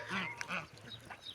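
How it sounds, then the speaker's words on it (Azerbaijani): A female mother duck quacks in a few quick, close, fairly loud calls on a small farm where ducks and geese are kept, with short pauses between the bursts. "Ana ördək, dişi ördək yani"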